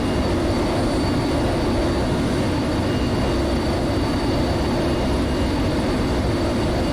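A Saab Viggen jet flies past in the DCS combat flight simulator, producing a loud, continuous broad engine roar that holds steady throughout with no voices.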